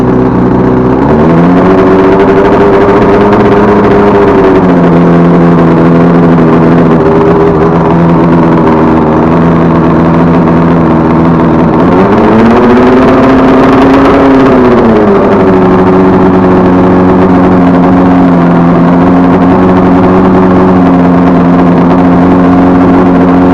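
A 1979 Evinrude 100 outboard boat motor starts and runs, a loud, steady engine drone that rises and falls in pitch as the throttle shifts, with one noticeable rev swell partway through, all with no talk.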